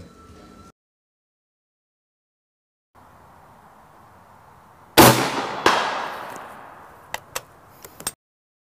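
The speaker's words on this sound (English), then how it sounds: "Exploding airgun bullets." Exploding airgun bullets fired from a PCP air rifle: a sudden loud sharp blast with a long decaying roar, a second hit right after, then a few small sharp cracks. Quiet background comes before it and no one speaks.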